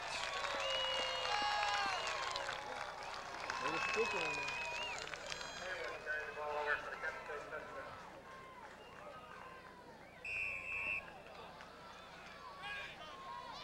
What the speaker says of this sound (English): the Kent State faithful finally get a chance to cheer on the offense